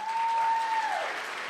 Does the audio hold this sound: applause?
yes